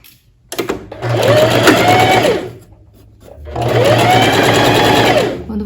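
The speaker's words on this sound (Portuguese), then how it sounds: "Já coloquei aqui os alfinetes, vou fazer uma costura reta." Sewing machine stitching a straight seam to close a pinned waist dart on a lined tailored vest, running in two close, loud whirring bursts separated by a short pause.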